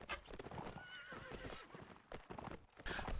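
A horse gallops in a multiplayer video game match, with clear, rapid hoofbeats up close and a neigh mixed into the busy game sounds.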